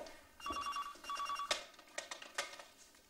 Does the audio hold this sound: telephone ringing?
yes